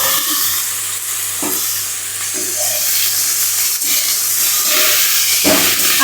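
Okra and potato pieces sizzle steadily in hot oil with turmeric, with a few scraping stirs of a spatula against the pan breaking through the continuous close fry.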